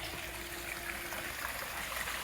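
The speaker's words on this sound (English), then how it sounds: "I'm adding some water." Water pours steadily into a backyard swimming pool, a soft, even trickling wash, faint and continuous with no voices.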